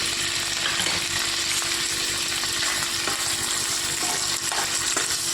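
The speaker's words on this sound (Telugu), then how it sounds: "ఆయిల్ వేడెక్కిందండి ఇందులోనికి నెత్తళ్ళు వేసుకొని వేయించుకోవాలి" Dried fish sizzling in hot oil in a pan for a dry fish tomato curry, a steady loud crackle and hiss throughout with faint clinks of stirring and no voices.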